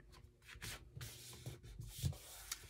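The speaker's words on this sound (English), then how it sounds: "And I'm going to use my bone folder to crisp that up." A bone folder burnishes the fold of a folded paper card, giving soft, close scraping and rubbing strokes with a few light taps, quiet and uneven, with no talk.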